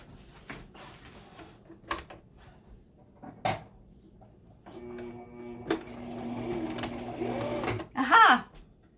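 A sewing machine stitches mask fabric parallel to the edge, giving a few short taps and then a sustained whirring run near the end, with a person talking over it.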